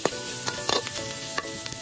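Large halved shrimp hit a hot pan, giving a steady close sizzle with stirring scrapes and clinks of a utensil throughout.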